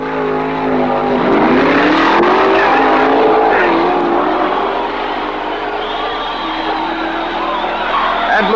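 Supercharged Chevy-engined fiberglass Camaro funny car drag racing a 1967 Mercury Comet, loud roaring engines rising in pitch as they accelerate down the strip, with a crowd and announcer faintly underneath.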